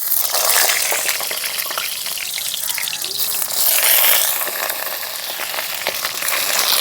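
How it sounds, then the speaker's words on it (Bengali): Eggplant slices dropped into hot oil in a kadai for achari begun, a loud, continuous crackling sizzle that surges and eases in waves, close up, with no talking. "তেলটা গরম হয়ে গেছে, দিয়ে দিচ্ছি বেগুন।"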